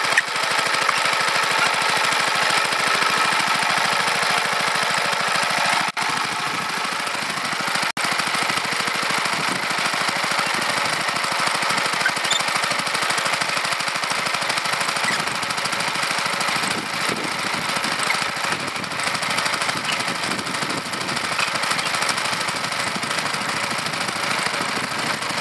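An engine drives an induction motor generator under governor control, running steadily under load with a continuous, loud mechanical drone and rattle throughout, and no talk.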